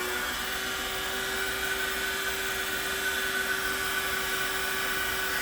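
A hot air plastic welder heats PVC while repairing a crash-damaged bubble housing, putting out a steady, high, whining blower drone with a constant tone that holds evenly throughout at moderate volume.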